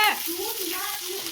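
Bay leaf, cinnamon, clove, ginger, garlic and onion sizzling in hot oil in a home kitchen pan, a brief loud burst of frying with crackling spatter and a faint voice under it.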